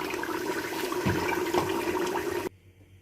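About four glasses of water pour into a pot of beef nihari in a steady, close rush that stops abruptly near the end, leaving quiet.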